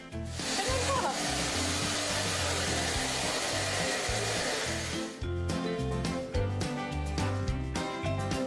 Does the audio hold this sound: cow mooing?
no